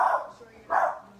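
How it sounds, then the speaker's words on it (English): A dog gives two short barks from a little distance away, fairly faint, with a brief gap between them. "there goes my dog, sorry."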